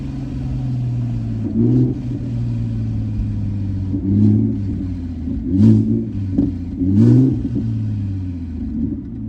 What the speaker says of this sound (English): more downshifts for y'all's ears